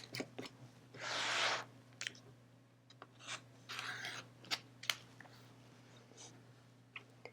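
Rotary or scissor trimming of fabric half-square triangles for a chevron quilt: quiet close-up cutting rasps and short scrapes, a few longer strokes among small clicks, over a low steady hum.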